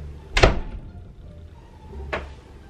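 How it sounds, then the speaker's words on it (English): A door slammed hard twice at night indoors, a loud close thump followed about two seconds later by a second, slightly softer bang, with no talking. "Stop slamming doors."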